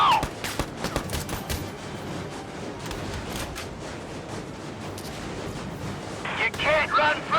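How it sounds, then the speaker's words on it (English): Battle gunfire in Valkyria Chronicles 4 rings out as a dense fusillade of sharp shots through the first seconds. It thins under continuous battlefield noise, then a few brighter crackling bursts come near the end. Voices speak briefly. "Shots fired!"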